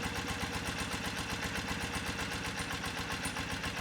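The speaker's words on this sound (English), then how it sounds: "So you can hear the idle kind of drop down there" A BMW motorcycle engine idles steadily during carburetor tuning with the idle air screw being adjusted, a close, even, rapidly pulsing throb that holds a constant rhythm with no talking.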